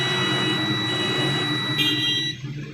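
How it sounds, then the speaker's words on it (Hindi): High, steady electronic beep sounding continuously while a Mi Note 4 phone circuit board is tested, with a slight pitch step near the end before it stops, over a faint background hiss. "यहाँ से उसका बजर का साउंड आ रहा है।"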